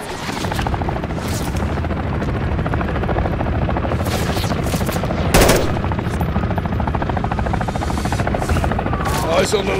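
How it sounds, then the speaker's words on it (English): An enemy helicopter's rotor drones loudly and continuously in Call of Duty: Modern Warfare III, amid bursts of machine-gun fire and heavy booms, with a sharp blast near the middle and voices mixed into the combat. "Eyes on the last helo. Copy, take it down. Enemy helo's going down."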